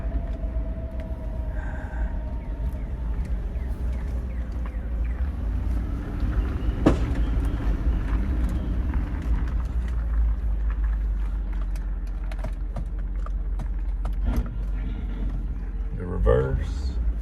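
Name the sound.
2004 Land Rover Discovery driving and turning off-road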